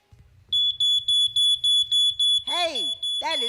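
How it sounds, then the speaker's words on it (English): A smoke alarm beeps rapidly and repeatedly with a shrill, high tone, and a voice talks over the beeping near the end. "Hey, that is the smoke alarm."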